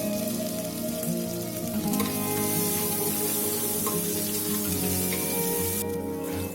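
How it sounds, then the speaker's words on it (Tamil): Black pepper and cumin fry in hot oil and ghee for wheat rava pongal, a dense, continuous sizzle and crackle heard close up with no talking. "எண்ணெய் சூடானதுக்கப்புறமா மிளகு சீரகம் சேர்த்து நல்லா வறுத்துக்கோங்க."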